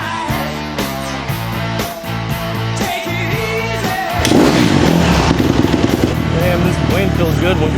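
A dirt bike engine runs close by: a steady, tonal hum at first, then a louder, rougher, more broadband roar from midway, with someone talking over it.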